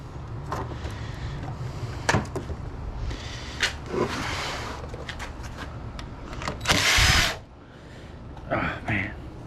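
A power drill unscrews small stainless steel nuts from scrap metal parts, giving short, close whirring bursts between clanks and handling noise, with some talk in the background.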